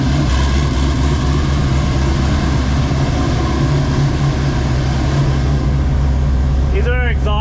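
Loud, steady low rumble of a Porsche 935 engine idling close by, unchanging throughout, with a voice briefly speaking at the very end.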